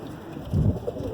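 Roller pigeons in a loft give a single brief, low, soft coo from close by against steady background noise.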